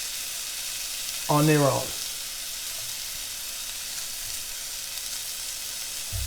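Butter melts on freshly cooked pancakes with a soft, continuous sizzling hiss close by, interrupted once early by a brief spoken phrase.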